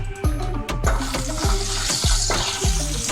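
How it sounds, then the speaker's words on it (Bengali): Bay leaf, dried chilli and cardamom sizzle in hot oil in a kadai, under loud, close, rhythmic scraping strokes of a spatula stirring about every half second. "কড়াইয়ে একই তেলের মধ্যে আমি প্রথমে তেজপাতা, শুকনো লঙ্কা আর এলাচটা ফোড়ন দিয়ে দিলাম"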